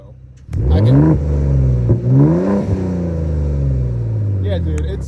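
A 2021-24 Gen3 Ford F-150 Raptor with an EcoBoost engine and AWE catback exhaust revs loudly up and down through several rising and falling pulls, then settles into a strong steady drone.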